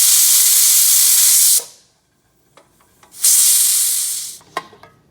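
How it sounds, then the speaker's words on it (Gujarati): Loud close steam hiss from a pressure cooker being released, a long blast that cuts off, a pause with small clicks, then a second sustained burst fading out. "પ્રેશર એકદમ રિલીઝ કરી અને કાઢી નાખી બધી હવા"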